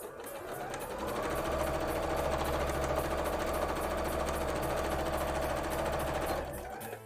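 A sewing machine runs steadily while stitching a long seam on a cosplay coat, a close, continuous rapid mechanical whirr and chatter lasting several seconds before winding down and stopping.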